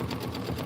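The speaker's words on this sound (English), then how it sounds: "And we're going to be stitching down with linen." A sewing machine stitches with linen thread, running close and steady with a rapid, even mechanical rhythm through the whole brief moment.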